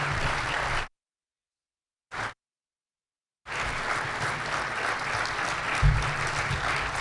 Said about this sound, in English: They're still clapping.